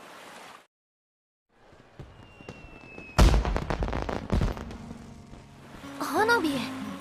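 Festival fireworks from a scene in the Uma Musume Pretty Derby video game: after a short quiet stretch, one sharp, loud burst rings out and then crackling, rumbling reports follow, with a voice speaking near the end.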